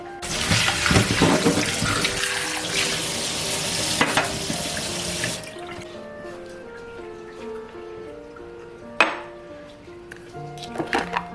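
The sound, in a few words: washing a pet bowl under running tap water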